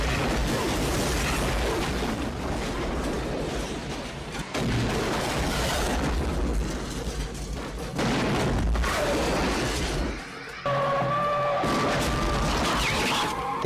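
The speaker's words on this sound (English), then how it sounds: "every shot is causing explosions" Heavy explosions and bursts of gunfire from the film Hard Target pile up in a dense, chaotic barrage, with loud crashes and booms cutting in and out.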